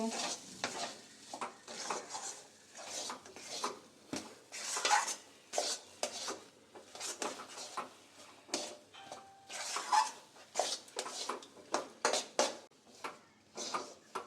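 A spoon scrapes and stirs pea filling for kochuri around a wok in a quick, uneven rhythm, with soft sizzling and metallic clinks, close and fairly quiet.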